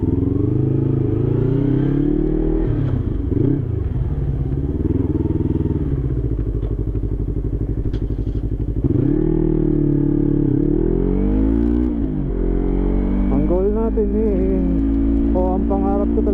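Yamaha YZF-R25 motorcycle engine revving hard toward redline with repeated rising pitch sweeps and gear shifts, a loud, continuous close-up roar with brief dips between gears.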